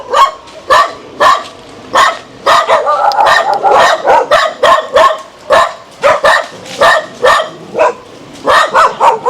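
Dog barking loudly and repeatedly nearby in rapid bursts, with short yips mixed in and no talk over it.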